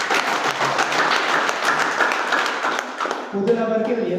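An audience applauds a women's product from a women's company at a live event, with dense, steady clapping for about three seconds before it thins out beneath voices.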